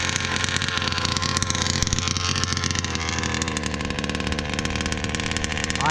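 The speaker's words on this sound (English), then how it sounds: "Just give it a little blips up to half throttle, nice and easy." Engine given gentle throttle blips up to half throttle, a steady loud rumble with rising and falling revs and crackly texture throughout, no talking.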